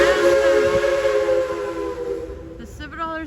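A Silver Dollar City steam train whistle sounds one long, steady, fairly loud blast that fades near the end, over a faint background hiss.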